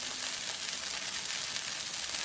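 Wheat dosa batter cooks on a hot pan, giving a steady, even sizzle with a bright hiss throughout, close and uninterrupted.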